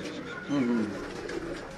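A pigeon on a rooftop gives a single low, soft coo, heard close under background noise.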